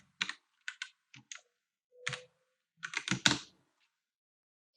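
Sparse keystrokes tap on a computer keyboard in short bursts and single clicks, close and quiet, with brief pauses between groups of keys in an otherwise silent room.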